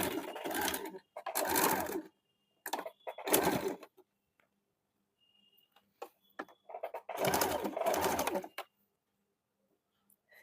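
A sewing machine locks the folded hem of a gents' short kurta in four separate loud, close bursts of rapid needle clatter, with quiet gaps between them and faint handling sounds in the pauses.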